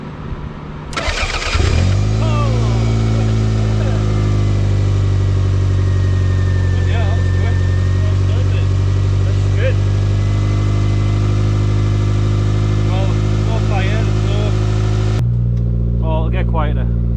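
A Toyota MR2 Turbo SW20 with a temporarily hot-wired fuel pump and ignition cranks, fires and settles into a loud, steady idle nearby before cutting off near the end, while people talk over it.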